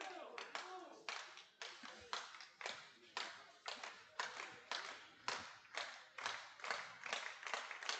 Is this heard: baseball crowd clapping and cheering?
yes